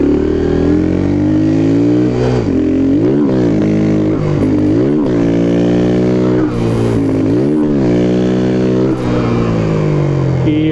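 A motorcycle engine revving repeatedly up and down, loud and close, with rising and falling pitch in several bursts.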